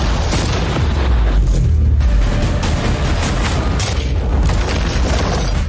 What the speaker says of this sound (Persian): بریم ببینیم چند تا توپ شلیک کنیم